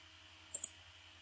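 Two quick, close computer mouse clicks sound in rapid succession against a faint, steady background hum while working in ArcGIS.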